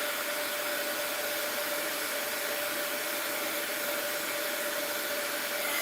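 Heat embossing tool blowing hot air onto a wax seal, a steady, loud, close whooshing hiss with a faint whine, continuous without pauses and no talking.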